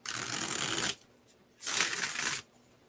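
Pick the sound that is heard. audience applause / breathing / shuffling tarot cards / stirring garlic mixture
shuffling tarot cards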